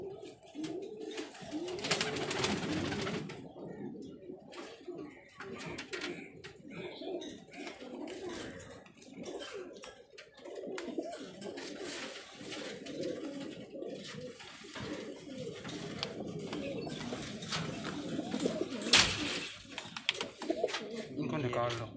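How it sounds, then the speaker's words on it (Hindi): Pigeons of two fancy breeds, three pairs, coo in a loft in Karachi while someone talks steadily over them; the soft cooing stays mostly buried under his voice. "कबूतर आपको कैसे लग रहे हैं।"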